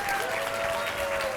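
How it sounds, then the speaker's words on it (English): Audience applause at a luncheon, a steady wash of clapping throughout, fairly loud and continuous with no clear gaps. "give a big round of applause first for Alain Tremblay"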